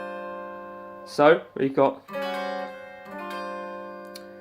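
Four sustained notes of a guitar chord ring out during a finger-stretching warm-up exercise, and a voice speaks briefly over the tones as they decay.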